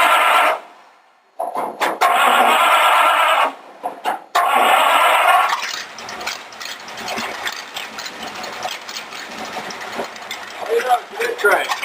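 Rat rod roadster engine cranking over in loud bursts with short pauses between attempts, then settling into a quieter, uneven mechanical clatter.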